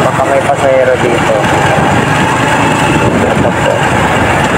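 Honda Wave 110 motorcycle engine running steadily at close range while riding through town, a continuous broadband hum with people talking over it.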